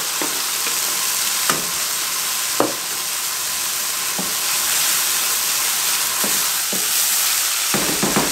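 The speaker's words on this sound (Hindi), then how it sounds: "थोड़ा सा इसको हिला के इस टाइम पे आके इसके अंदर मसाले जाएंगे" Ginger, garlic and tomato paste frying and being stirred in a pan for a chicken dish, giving a steady loud sizzle with occasional scraping stirs throughout and no talking.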